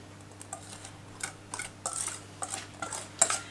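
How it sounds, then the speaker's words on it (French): Cake batter poured and spread into a greased terracotta tart mould, quiet with a series of soft irregular scrapes and light clinks of a utensil against the dish, no voices. "Je vais verser la pâte déjà."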